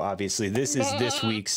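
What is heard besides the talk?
goat-like bleat sound effect from a creative application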